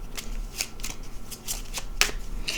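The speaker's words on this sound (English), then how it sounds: "Okay, so let's pull some cards." Tarot cards are shuffled by hand in a quick series of crisp, close riffling bursts with no talk.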